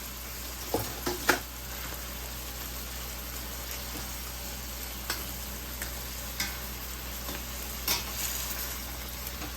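Hamburger steak patties fry in oil in a pan, crackling and sizzling steadily. Scattered sharp pops and spatters, a cluster of them early on, ring out over the constant hiss. No one speaks.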